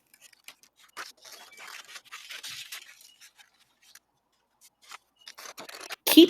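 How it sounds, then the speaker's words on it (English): Scissors snipping through paper to cut free-flowing organic shapes, a string of quiet close crisp snips in irregular bursts with short pauses, ending in a louder rustle. "Wiggle your scissors and turn them freely"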